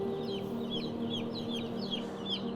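Chickens on a UK chicken farm cluck repeatedly in a dense, continuous chorus, with many overlapping calls close by inside the barn.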